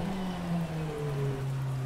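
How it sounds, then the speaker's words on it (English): Dense, hissing rain pours steadily over a low GT3 car engine drone, a constant wash of downpour in the racing game rFactor 2. "as rain is pouring down."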